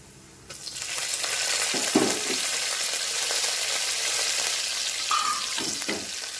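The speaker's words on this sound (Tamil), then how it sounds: "முதல்ல வந்து மிளகையும் சீரகத்தையும் போட்டலாம் அது பொரியுது" Black pepper and cumin fry in hot oil, a sudden sizzle that starts abruptly and stays steady, with occasional stirring clinks on the pan.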